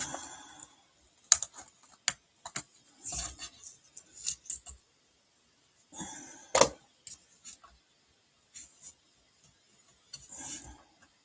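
Cardstock being cut for a Stampin' Up! Easter basket fun fold card: quiet, intermittent clicks, scrapes and short rasping strokes with pauses between them, close up.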